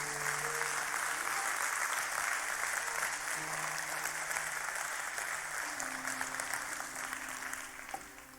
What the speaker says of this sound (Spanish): bríndele un fuerte aplauso al Señor